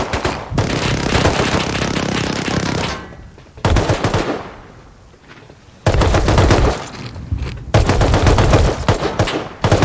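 Rapid bursts of automatic gunfire from NPC enemies in the survival game Rust, loud and close, arriving in several sustained volleys with short quieter gaps between them and no talk over them.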